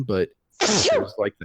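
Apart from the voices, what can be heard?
sneeze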